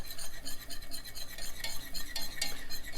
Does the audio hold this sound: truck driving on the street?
no